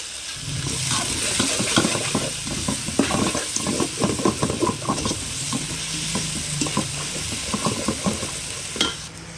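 Onions and ginger-garlic paste sautéing in a pan for a chicken kuzhambu, a steady close sizzle with repeated scraping strokes of a spoon against the metal, continuous and moderately loud with no voices.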